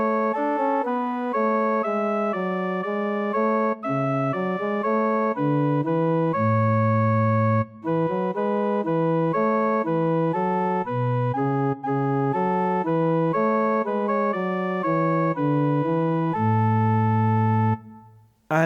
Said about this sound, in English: We've got our soprano and bass counterpoint,